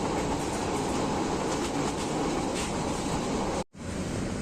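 A Jamalpur Express train rushes through a railway station, a loud, close, continuous roar of wheels and wagons with faint rhythmic clatter. The sound cuts out briefly near the end.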